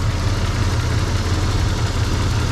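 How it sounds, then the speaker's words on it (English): Toyota 4Runner engine running at idle after a major engine repair, a steady rough low rumble that stays loud and continuous throughout with no voices over it. "It's idling terrible."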